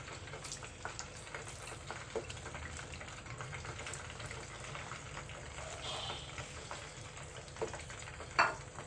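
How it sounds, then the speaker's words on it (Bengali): Chicken pieces fry in oil on low heat, a soft steady sizzle with faint stirring and a clatter near the end, fairly quiet throughout. "প্রথমে যে মাংসগুলো ভেজেছিলাম এখন আবার দিয়ে দিব।"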